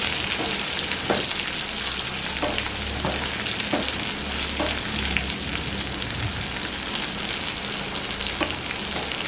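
Long-cut brinjal slices fry in oil in a pan with a constant sizzling hiss, while a spatula stirs them with a few distinct scraping knocks spread across the sound.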